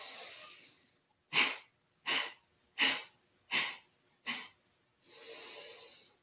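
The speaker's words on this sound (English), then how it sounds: "as if we're blowing out a candle with 5 breaths through the nose" Yoga breathing exercise: five sharp, forceful exhales through the nose in an even rhythm, framed by a longer breath in before and a long breath out after, close and clear.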